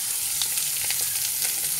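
Onion sizzling and frying in a large pan while making garlic-and-oil pasta, a steady close crackle with faint stirring, no talk.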